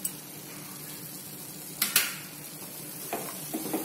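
A barfi mixture being stirred with dry fruits in a pan, quiet background broken by a few sharp scraping clinks of a spoon against metal.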